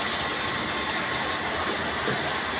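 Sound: water pumped out through a one-inch pipe

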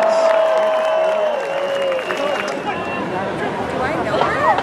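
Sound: crowd applause at USC band pep rally

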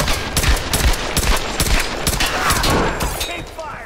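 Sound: gunfire in Tomb Raider video game

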